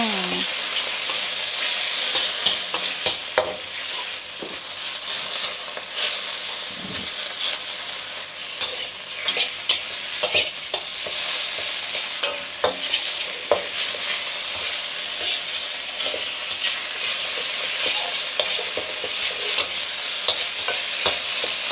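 Pork stir-fries in a hot pan for Thai fried rice, a loud continuous sizzle and hiss with frequent clacks and scrapes of the spatula throughout, close up and without talking.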